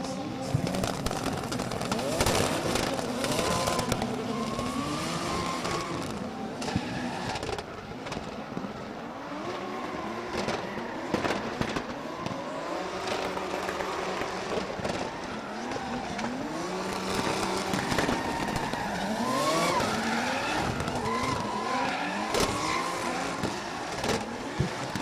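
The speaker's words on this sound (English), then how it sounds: "we hear the bangs of both cars coming around the last corner" Drift cars at a drifting championship battle, one chasing an E46 BMW through the last corner, with continuous engine roar, tire squeal and popping exhaust bangs under a commentator talking throughout.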